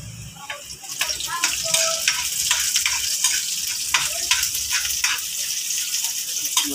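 Onion sautéing in a pan while cooking chicken feet humba, a continuous close sizzle with scattered clicks and scrapes of stirring, fairly loud, with some faint background voice.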